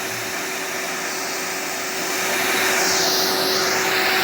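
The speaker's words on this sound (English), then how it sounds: "Hear that noise? Oh, that's the vacuum cleaner." A vacuum cleaner runs in the background of a wood-carving workspace, a steady droning whir with a faint tonal hum, swelling slightly louder partway through and continuing without pause.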